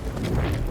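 A deep, booming explosion in the Battlefield V video game, one heavy low rumble filling the whole short moment, loud and close with no talk over it.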